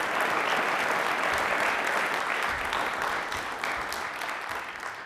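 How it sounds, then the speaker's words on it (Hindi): A studio audience applauds a deputy director of corporate relations on a televised quiz show, loud, dense and sustained clapping that eases slightly toward the end. "तालियां प्लीज एक बार जोरदार इनके लिए"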